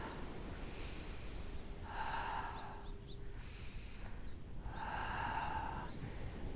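A person breathing during a Pilates back and core workout, with two slow, audible breaths spaced a few seconds apart over quiet background hiss.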